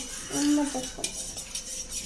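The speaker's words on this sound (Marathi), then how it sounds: "हे बघा हे व्यवस्थित पद्धतीने खूप व्यवस्थित मिक्स करायचं जेणेकरून सर्व एकजीव होईल" Dhokla batter is stirred in a bowl, with a spoon clinking and scraping against the sides in a short, busy flurry of kitchen sounds and no talking.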